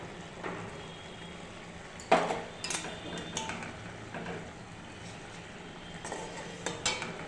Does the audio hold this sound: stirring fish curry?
yes